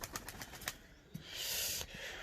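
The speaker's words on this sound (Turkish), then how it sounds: "Rus güvercini diye tahmin ediyorum arkadaşlar" A loose pigeon, thought to be a Russian breed, flaps its wings in a quick series of soft beats, followed by a longer, louder burst of wingbeats up close, with no talking.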